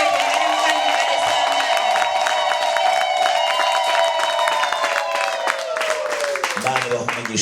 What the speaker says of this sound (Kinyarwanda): Nimumfashe twongere Imana amashyi.